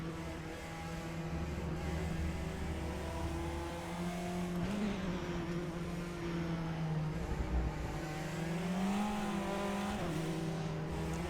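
Praga R1 prototype engine in RaceRoom's Britcar race at Shanghai GP circuit, droning close-up as it rises and falls through repeated gear shifts and lifts, with faint tyre scrub and other cars around.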